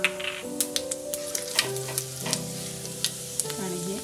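Mustard seeds and cumin sizzle in hot oil with a close, lively crackle, sharp pops and spits breaking out at irregular moments over the steady frying hiss.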